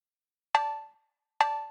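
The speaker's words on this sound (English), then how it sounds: "The tabla hit is layered with the cowbell." Two sharp, bright percussive hits in a grime beat built in Ableton, a tabla hit layered with a cowbell, each ringing briefly and fading, spaced under a second apart with silence between.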